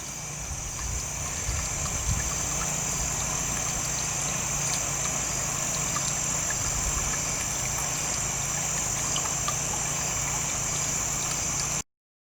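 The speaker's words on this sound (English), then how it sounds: "That's my neighbor out pressure washing" A neighbor's pressure washer runs nearby beside a small creek, producing a steady, unbroken hiss and engine drone with a thin high whine, constant until it cuts off abruptly at the end.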